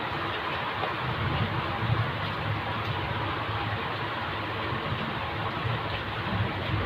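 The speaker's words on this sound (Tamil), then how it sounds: "வெளியே மழை பெய்கிற சத்தம் வேறு அதிகமாக கேட்குது" Heavy rain pours steadily outside a home kitchen, a dense, even hiss with a low rumble underneath that holds constant throughout, with no voices.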